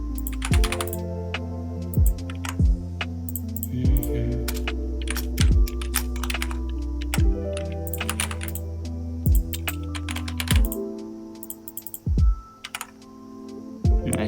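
Code typed into a computer keyboard during HTML web page work, loud close key clicks in quick bursts separated by pauses, over a steady low electrical hum, with no talking.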